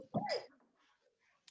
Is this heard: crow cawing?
no